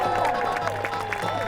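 Crowd at a jousting tournament at Leeds Castle, Kent, cheering and clapping steadily throughout, a dense wash of applause with scattered shouts in the mix.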